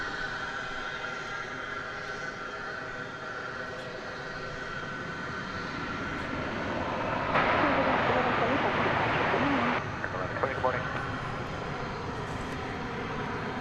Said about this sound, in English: That was American Flight 1120 off to Chicago O'Hare.